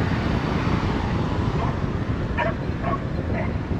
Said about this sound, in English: There goes the Kroger delivery van and the dogs.